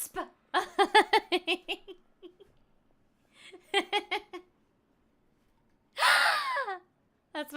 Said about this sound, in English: That's my dramatic gasp.